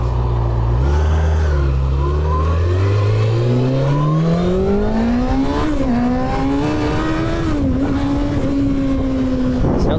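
Kawasaki ZX-6R sport motorcycle accelerating hard, its engine note climbing steadily in pitch through a sustained loud rev with a brief dip near the end, close and continuous with no speech.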